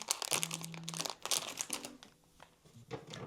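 Plastic blind bag packaging crinkles and crackles in close, busy bursts as it is twisted and pulled at, with a faint low hum underneath.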